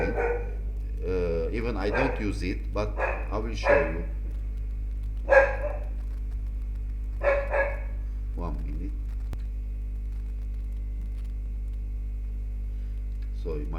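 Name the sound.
dog barking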